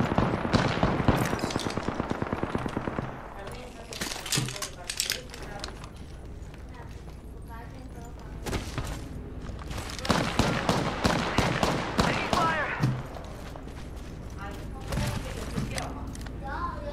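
Rapid bursts of gunfire from the video game Apex Legends, a dense rattling run at the start, then scattered shots and clusters later, mixed with game effects and voices talking.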